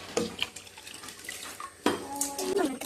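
Water measured to suit the rice is poured into a heated biryani pot with coconut oil for Onam-style ghee rice, giving splashy pouring and clinking pot sounds in two bursts, close and moderately loud.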